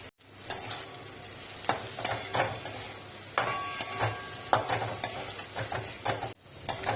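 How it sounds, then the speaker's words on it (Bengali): Potatoes fry in a pan with turmeric and spices. A soft sizzle runs under repeated scraping and stirring strokes, with sharp clicks of a spatula against the pan at a fairly regular rhythm. "এবার এটা আমি খুব ভালো করে কষে নেব।"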